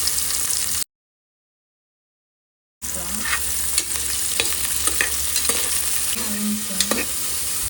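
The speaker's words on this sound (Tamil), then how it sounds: "அடுத்து வெங்காயம் ஆட் பண்ணி நல்லா வதங்க விடலாம்." Onions sautéing with chillies and cashews in ghee for ghee rice, a close sizzle with repeated spoon scrapes and clatters against the pan, briefly cut to silence near the start.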